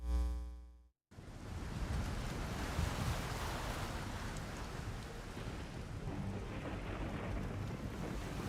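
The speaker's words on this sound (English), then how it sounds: "Beyond the large waves, a huge shadow of a ship. The storm area extends around the ship." Large ocean waves surge in a storm in a video game, a dense roaring wash of wind and water that swells and holds steady after a brief musical tone cuts off abruptly.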